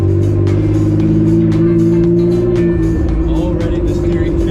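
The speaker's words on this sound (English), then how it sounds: "For the bleeding procedure, we're gonna start the car on" A car engine runs at a steady, loud idle during power steering bleeding, a continuous low droning hum with no clear rise or fall, close to the microphone.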